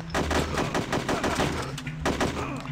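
Rapid gunfire in the video game Hitman, a loud burst of repeated shots in quick succession, a brief pause, then more shots.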